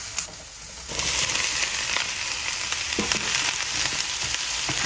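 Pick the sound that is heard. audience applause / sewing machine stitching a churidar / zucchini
zucchini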